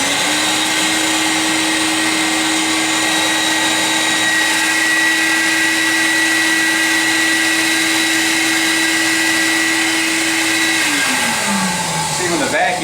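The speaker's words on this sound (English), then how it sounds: "when the vacuum's going, it just goes straight up in there" A loud vacuum motor running a Mytee dry upholstery cleaning tool drones continuously and close up, then its pitch drops as it begins to wind down at the end.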